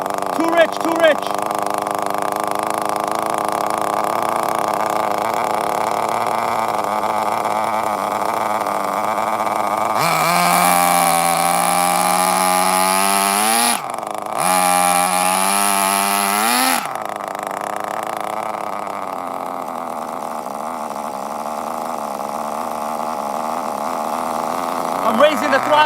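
Nitro engine of a Tamiya Terra Crusher RC truck running, a steady high-pitched buzzing whine that flares much louder and brighter for several seconds mid-clip before settling back, with a voice speaking over it.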